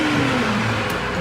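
A 2020 Jeep Gladiator Rubicon, wrecked and being rebuilt with an aftermarket drive shaft, backs up with a steady, loud engine drone and slight revving close by in a shop, with no talk.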